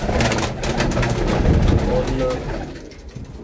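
Rampuri breeding pigeons cooing in a loft, soft repeated coos mixed with other bird calls while someone talks over them throughout.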